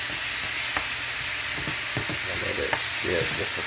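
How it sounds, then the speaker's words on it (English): Ground turkey frying in a pan for nachos, a close, steady sizzle with occasional stirring scrapes and soft pops throughout. "so I'm frying up my ground turkey"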